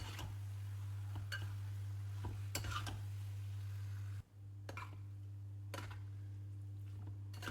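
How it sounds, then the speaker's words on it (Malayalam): A spoon mixes lemon and dates pickle in a vessel, making faint, scattered clinks and scrapes every second or so over a low steady hum. Everything stays quiet and close, with no talking. "എല്ലാം കൂടി നന്നായിട്ടൊന്ന് മിക്സ് ചെയ്തെടുക്കാം"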